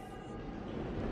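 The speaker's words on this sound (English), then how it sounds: "The train's here." A New York subway train rumbles into the station with a broad, steady roar, loud and close, grinding along without letup.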